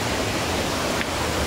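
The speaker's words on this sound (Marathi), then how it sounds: "हा पाण्याचा फ्लो आहे सध्या या साईडला" Water flows along a roadside stream on the Konkan route from Mumbai to Rajapur, a loud, continuous close-up rush of broadband noise with no voices heard.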